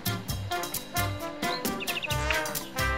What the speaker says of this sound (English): I think I heard me a bird.